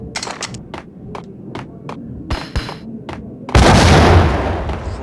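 Gunfire in the video game Max Payne cracks in a rapid series of sharp shots, then a grenade bursts into a loud, sustained roaring explosion that slowly fades.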